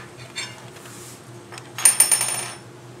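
A hot metal sizzling pan is set down for Filipino cooking, giving a short clattering metallic clink with a brief burst of sizzle that quickly fades, heard close up against a quiet kitchen background.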